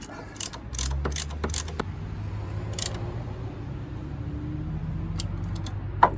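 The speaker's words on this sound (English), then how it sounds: "as I push the cylinders back in their bores, it's going to raise the fluid level" Brake caliper pistons being pushed back into their bores during a PowerStop brake pad and rotor install, giving a series of close mechanical clicks and ratcheting taps early on, then a steady low hum with a sharp click near the end.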